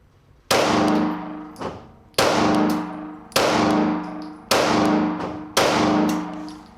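Five loud gunshots fired at a range while testing a Bushnell RXS-250 red dot sight, each a sharp crack with a ringing tail, spaced roughly a second apart and close by.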